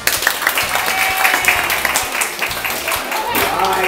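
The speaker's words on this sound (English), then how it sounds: "Can we clap for the girls?" Audience at a campground weekend animal show clapping for a group of girls, a steady dense patter of applause running throughout, fairly close and loud.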